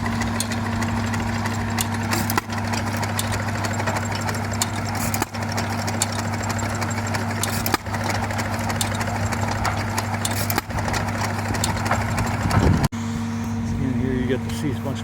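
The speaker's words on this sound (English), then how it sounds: "See some of these old engines." Old tractor engines idle steadily at an outdoor harvest festival, a continuous low mechanical drone running through the whole stretch with occasional clatters and knocks. People talk nearby underneath.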